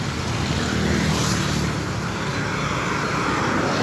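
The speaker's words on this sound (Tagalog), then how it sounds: "nandito na po tayo sa kampo o sa highway po" Traffic passes on a highway in Tarlac, a loud, continuous broadband roar of vehicles with a swell near the start as something passes close, no voices.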